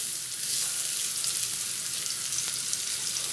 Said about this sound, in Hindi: अब हम इसमें डालेंगे बारीक कटी हुई प्याज। इसे भी हम अच्छे से मिक्स कर लेंगे